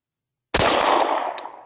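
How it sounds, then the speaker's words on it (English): A single sharp shot from an FNX 45 pistol cracks after near silence, loud and close, then decays through a short echoing tail. "You see where I'm shooting at."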